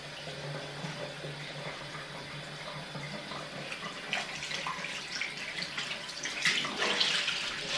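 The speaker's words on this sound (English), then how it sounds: "I have to leave the water running" Tap water runs into a sink during a morning face-washing routine, a steady close stream with louder splashes and handling noises building toward the end.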